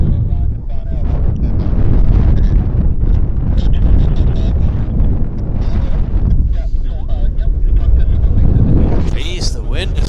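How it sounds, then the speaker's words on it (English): Strong gusty wind buffeting the microphone at Vancouver airport, a loud, continuous low roar that rises and falls in waves, with faint higher sounds poking through. "the wind is just insane"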